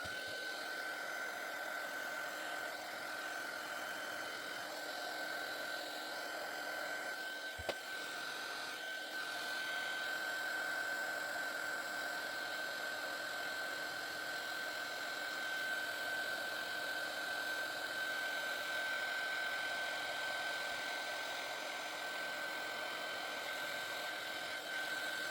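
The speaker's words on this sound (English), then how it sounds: "And I'm using my heat gun," Craft heat gun melting embossing powder on an ink resist card, a continuous close blowing whine with a steady tone that runs unbroken throughout, with one brief click early on.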